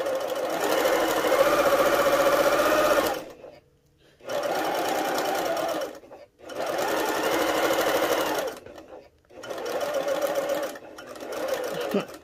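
A Janome HD9 sewing machine stitches a seam with backstitching, running in four close, steady bursts separated by short pauses, with no talking.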